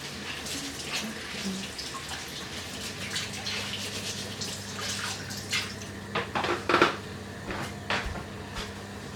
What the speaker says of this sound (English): Just wash your hands out.